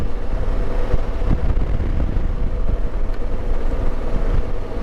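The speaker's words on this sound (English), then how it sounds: "But it's pretty windy out here today" Wind buffets a microphone outdoors beside a Honda Africa Twin motorcycle in continuous gusty rumbles, loud and close, with a low vehicle-like drone underneath.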